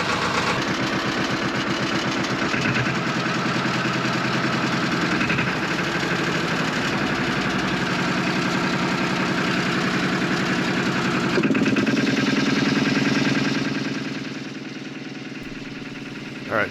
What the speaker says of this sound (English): this is our high pressure air compressor, and it's driven by a 2-cylinder air-cooled diesel engine